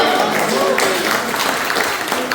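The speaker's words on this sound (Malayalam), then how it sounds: "എല്ലാവരും ഒന്ന് കൈയടിച്ചല്ലോ" An audience at a Malayalam class inauguration claps in a dense, steady round of applause lasting a couple of seconds, with a voice speaking over it.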